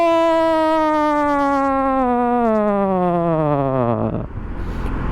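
A police car siren sounds close behind a Honda PCX 125 scooter rider: one loud, sustained wail that slides steadily downward in pitch and then winds down and cuts off.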